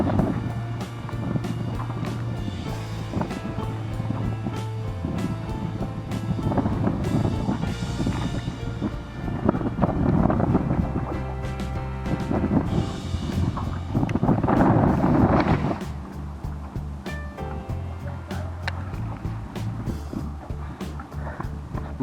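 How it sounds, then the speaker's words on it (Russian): Strong side wind buffets the microphone while fishing on the Dnieper river, a loud continuous rumble that swells and eases in gusts, with water and boat sounds beneath. "боковой ветер, конечно, сдувает дугу"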